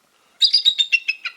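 An eagle at a wildlife center gives a quick series of about seven high, chittering call notes, loud and close against quiet surroundings.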